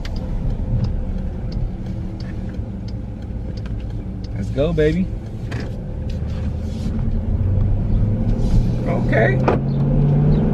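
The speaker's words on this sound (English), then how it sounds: "If you listen closely, you can actually hear that Hemi." A Dodge Durango R/T with a Hemi engine rumbles low and steady while driving, heard from inside the cabin and swelling slightly toward the end, under brief speech from a man.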